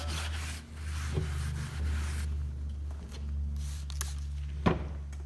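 Steady rubbing and scrubbing strokes against the hard surface of an antique serving tray, fairly quiet, with a low hum underneath and a few small knocks.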